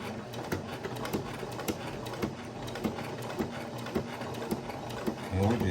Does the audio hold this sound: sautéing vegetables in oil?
no